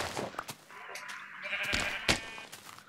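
Several short nasal bleats from a Minecraft sheep, close and fairly loud, spaced irregularly across a few seconds with brief clicks and thuds between them.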